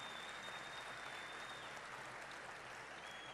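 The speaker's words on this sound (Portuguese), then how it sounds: "peço um aplauso para eles" Audience applauding at the opening ceremony of a Campus Party tech event in Brazil, a steady, dense wash of clapping that fills the room throughout without pause, with a faint high tone running through it.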